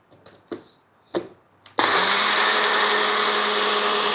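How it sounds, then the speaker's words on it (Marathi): A kitchen mixer grinder pulverises dried rice into flour, starting abruptly after a few soft handling knocks and then running as a loud, steady, dense whirring roar to the end. "आता आपण मिक्सरला फिरवणार आहोत."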